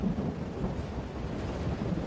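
Low rumbling thunder rolls beneath a steady wash of rain from an inland cyclone rain depression, continuous and fairly faint throughout.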